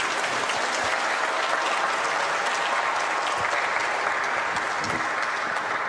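Loud, continuous audience applause for the presenter at a seminar, dense and even from start to finish.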